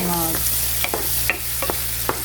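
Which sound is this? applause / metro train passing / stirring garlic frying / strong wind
stirring garlic frying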